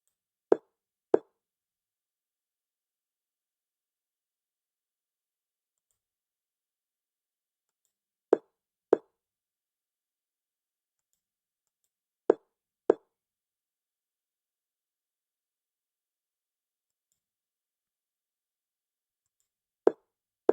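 Chess pieces being moved in a computer chess game, soft isolated plops arriving in quick pairs, four pairs spread across long stretches of silence.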